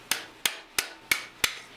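A hammer strikes thin 22 gauge sheet metal over the edge of a stake while forging a Betty lamp pan. Five sharp, evenly spaced metallic taps ring out, close and alone.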